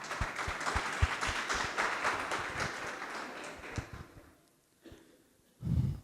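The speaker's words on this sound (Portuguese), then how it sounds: "Palmas para eles." A youth group at a Presbyterian church gathering gets a short burst of clapping from the audience, which thins out into a few scattered claps before a louder thump at the end.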